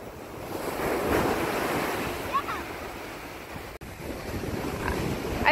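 Ocean surf rolls onto a beach in a steady, loud wash of breaking waves, with wind buffeting the microphone throughout.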